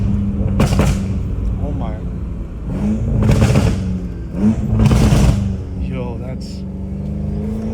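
A BMW M5 Competition revving hard in bursts, with loud engine surges and drops between gear shifts, heard up close while a man reacts excitedly over it.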